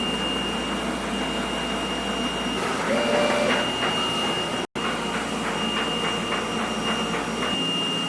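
A DTF printer runs a nozzle test, with a steady high whine and fan hum broken by a series of rhythmic mechanical printhead passes, one brief dropout midway, all close and fairly loud.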